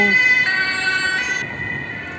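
An ambulance siren wails loudly over road traffic beside a bay, its tone shifting as the vehicle passes and fades slightly away.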